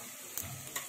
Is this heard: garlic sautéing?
yes